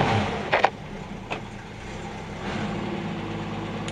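A 1965 Ford Mustang coupe with a six-cylinder engine and manual gearbox idles with a steady, moderately loud rumble, with a few soft knocks early on.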